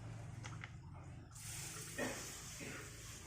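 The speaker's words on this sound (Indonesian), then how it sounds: "untuk pengaplikasiannya teman-teman bisa spraykan atau semprot ya, semprot lembut saja di bagian daun batang ya" A spray bottle gently mists the leaves and stems of a calathea houseplant, giving a soft, faint, sustained hiss that starts partway through after a few quiet handling sounds.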